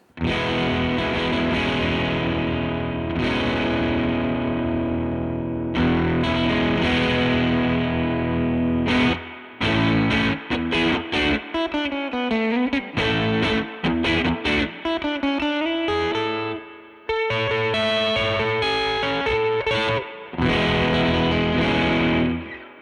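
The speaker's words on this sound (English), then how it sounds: "Let's try a fuzzy overdrive sound." An electric guitar plays through a Benson Stonk Box '60s-style fuzzy overdrive pedal, thick distorted sustained chords followed by choppy bent notes and short bursts with brief silences between.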